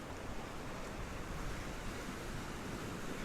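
Sea waves wash onto the shore at Poniente beach in Benidorm, a steady broad roar of surf mixed with wind noise, continuous and fairly close without a break.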